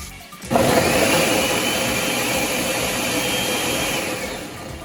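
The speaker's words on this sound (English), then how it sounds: "so we've blended some of the tomatoes" Tomatoes are pureed in a kitchen blender, which starts abruptly and then runs as a loud, steady whirring roar for over four seconds before easing slightly, with no talking.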